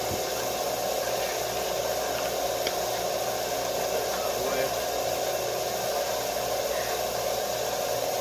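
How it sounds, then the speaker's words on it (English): A Bucktool 1x30 belt sander motor runs steadily, a constant even whir and hum that holds close and loud the whole time with no change in pitch. "I'd say this almost runs a little bit quieter, but it's a bigger motor"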